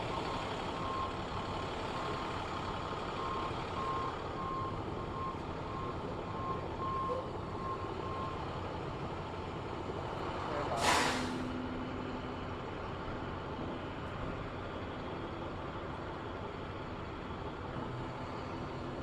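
A truck carrying a statue crate idles with a low rumble, and a faint repeating reversing beep sounds at intervals; about two-thirds of the way through, a loud burst of air-brake hiss cuts in briefly.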